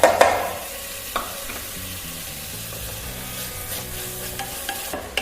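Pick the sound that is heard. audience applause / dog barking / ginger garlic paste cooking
ginger garlic paste cooking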